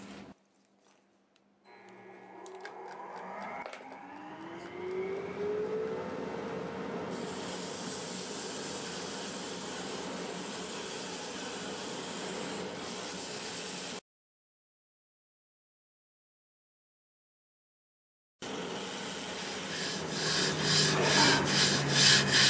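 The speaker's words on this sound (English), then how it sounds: "So I'm going to start sanding with 120 grit with a lathe in reverse." Sandpaper and a small disc rubbing against segmented wood turning on a lathe spinning in reverse, 120 grit: a steady close raspy hiss for long stretches, a sudden gap of silence, then the rubbing resumes more harshly.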